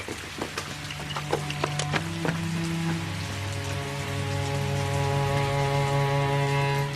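Steady rain falling in a cold spell, with scattered drops striking a hard surface over a low constant hum, the patter close and moderately quiet throughout.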